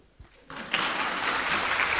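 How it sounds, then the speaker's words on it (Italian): An audience at an astronaut meet-and-greet breaks into applause, starting after a brief quiet moment, then swelling quickly into steady, full clapping that continues to the end. "Potete applaudire."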